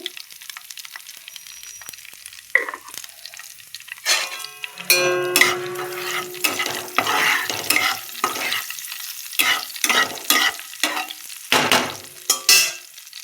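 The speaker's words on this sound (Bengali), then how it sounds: "এই যে লঙ্কা কুচিয়ে দিয়েছি দেখো ফ্রাইং প্যানে আর এই যে দিয়ে দিলাম এবার কালো জিরে" Chopped green chilli and black cumin seeds hit a hot frying pan. It is quiet at first, then bursts of spitting sizzle arrive with stirring clatter and a faint tonal hum underneath.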